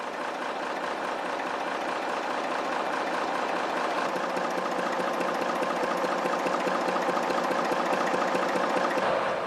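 An SNCF BB 66000 diesel-electric locomotive with a slow, heavy six-cylinder inline Sulzer 6 LDA 22 engine runs at a steady idle, giving a close, continuous throbbing rumble with a regular mechanical pulse.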